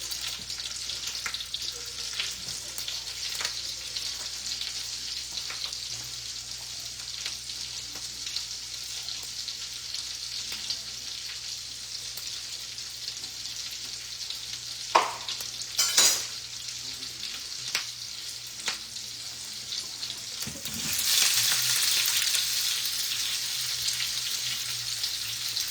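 Onions sizzle steadily in a pan while being stirred, with occasional scraping and utensil clinks and a louder burst of frying toward the end; no one talks.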